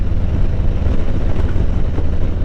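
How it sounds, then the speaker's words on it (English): Steady, loud wind buffeting a rider cruising at about 40 mph on a Harley Davidson Road Glide motorcycle, a continuous low roar with engine rumble blended underneath, no talking. "It'd be even better if it wasn't so windy"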